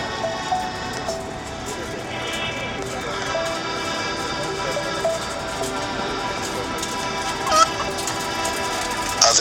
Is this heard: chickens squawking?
yes